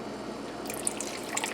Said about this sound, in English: I'm going to put a shot of red wine in with it